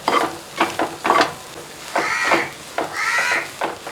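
Spinach and egg stir-fry (cheera mutta thoran) being stirred in a pan after black pepper powder is added: scraping, lightly sizzling strokes come in short bursts, while loud crow caws ring out over them.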